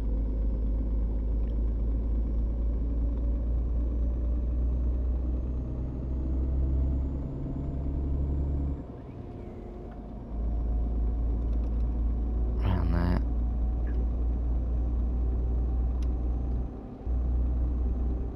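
Steady low truck engine rumble from the console game On The Road Truck Simulator, droning continuously with slight shifts in pitch and a brief dip partway through, loud and constant throughout.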